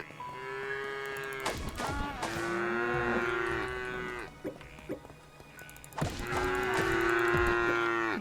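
Cattle in the video game Craftopia moo in long, drawn-out calls, three distinct bellows spaced across the stretch, close and loud with game ambience beneath and no talking.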